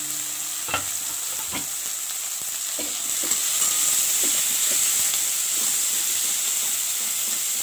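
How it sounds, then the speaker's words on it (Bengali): Onion, garlic and chili frying lightly in a pan, a steady hissing sizzle that swells louder midway, with a few soft stirring knocks early on. "পেঁয়াজ রসুন লঙ্কাটা বেশি ফ্রাই করব না হালকা ফ্রাই করছি"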